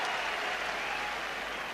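Applause from a crowd at a Celtic versus Dundee United football match, a steady, dense clatter of many hands sustained at moderate loudness throughout, with no talking.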